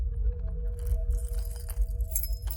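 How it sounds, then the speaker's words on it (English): A set of keys jangles and rattles close by as someone works through the locks on a door, metallic clinks coming in quick, uneven bursts. "The locks outside my door jangled, and I heard a set of keys methodically opening each at one."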